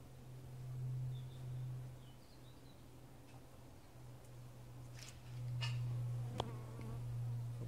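Honeybees drone in an opened beehive during an inspection, a soft low steady hum close by with faint wing buzzes and a few light taps, quiet and without talk.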